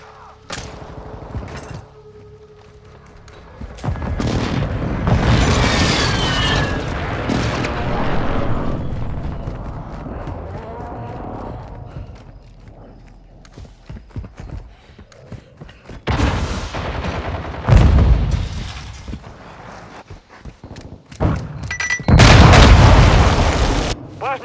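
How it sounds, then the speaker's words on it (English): Heavy airstrike explosions in Call of Duty: Modern Warfare roll in as deep, loud booms, one long rumbling barrage early on and further blasts toward the end, with occasional radio chatter between them. "Hostiles called in an airstrike."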